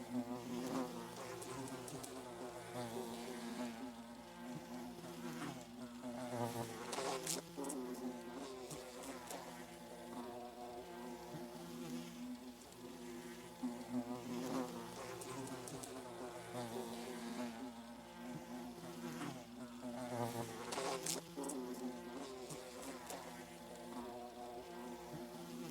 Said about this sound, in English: there's just a superimposed video of a fly just making the buzzing sounds